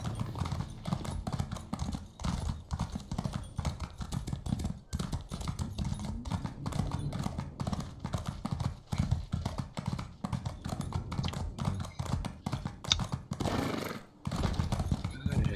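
Horse hooves clip-clop in a steady, even rhythm as the horse is ridden in The Elder Scrolls Online, continuing through the whole stretch with occasional faint background sounds.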